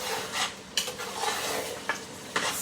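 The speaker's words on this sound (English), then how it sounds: "Stir it real good." A spoon scrapes and stirs through a pot of Liberian fried potato greens with meat, sizzling softly, with a few sharp clinks against the pot rim over a couple of seconds.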